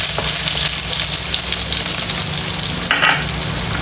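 Corned beef and onions frying in hot, splattering oil, a loud, steady sizzle close by with crackles and a brief burst of stirring near the three-second mark.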